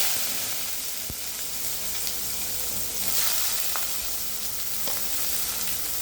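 Onions frying in a hot pan give off a continuous soft sizzle and hiss, with a few faint stirring clicks, heard close and steady with no talking.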